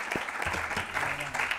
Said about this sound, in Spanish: Jo faria un aplaudiment a les nostres dues ponents